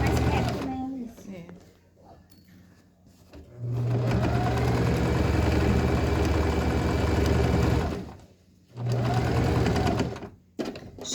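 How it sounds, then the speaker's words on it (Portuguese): Domestic sewing machine stitching a backstitch to lock a seam on a patchwork quilt throw, running in two loud close bursts separated by pauses, with someone talking before and between them. "Eu vou dar uma travadinha aqui na máquina de costura"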